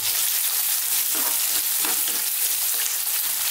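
Onions and a 50-50 garlic ginger paste frying on high heat for a beef mushroom curry, a loud, dense, unbroken sizzle with faint stirring scrapes, close and without talk.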